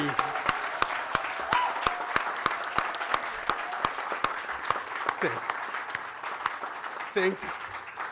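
A large convention audience claps steadily in sharp, rhythmic bursts, with brief voices rising over the applause near the end.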